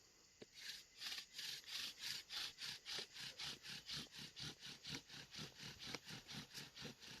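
A wooden bow drill spindle spun against a wooden fireboard to start a friction fire: rhythmic back-and-forth rasping strokes, about three per second, steady and close, with a few sharp creaks.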